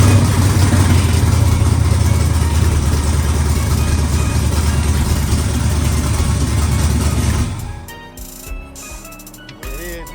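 An LS-swapped Chevrolet Impala engine runs loud and steady with a deep rumbling idle for several seconds, then shuts off, leaving only faint clatter and rustling.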